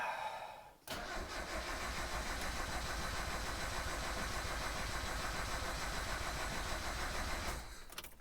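A Mazda Miata NA with a troublesome engine fires up after a brief crank and settles into a steady, rough idle that runs for several seconds before fading slightly. It sounds fairly distant and no one speaks.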